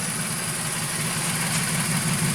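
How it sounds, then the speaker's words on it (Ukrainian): A VW Polo 1.2 with the three-cylinder AZQ engine idles steadily with a low, even hum and slight vibration, fitted with a new timing kit, heard up close and alone. "Іменно в той момент, коли включається вентилятор, йде навантаження, чуть затикається, але все одно далі починає рівно працювати."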